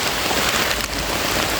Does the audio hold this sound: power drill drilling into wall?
no